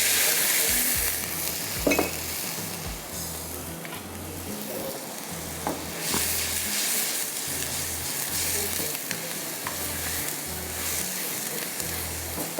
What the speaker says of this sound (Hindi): थोड़ा सा आपने इसको पकाना है ताकि इसके अंदर वो चिली वगैरह डाली उसका कच्चापन ख़त्म हो जाए